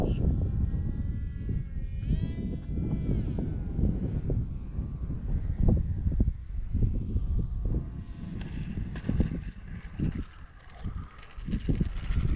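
Small, light radio-controlled Value Hobby Condor X-75 plane flying, a steady droning motor with whining pitch shifts as it passes, heard over heavy wind buffeting on the microphone, fairly loud and without talk.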